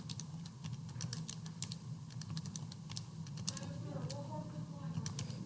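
Calculator keys pressed in a quick run of light taps while entering a column of statistics values, each press a small sharp click over a low steady hum, with faint talk in the background.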